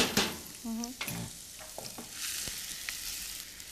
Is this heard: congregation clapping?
no